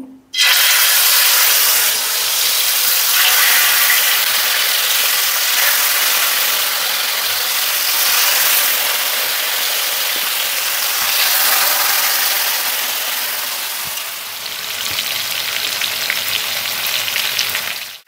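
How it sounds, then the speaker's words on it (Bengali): Chicken pieces frying in hot oil for butter chicken, a loud, steady broadband sizzle that holds for the whole stretch with slight swells, alone and without voices. "তেল গরম হয়ে গেছে, এবার চিকেনগুলো আমরা ভেজে নেব।"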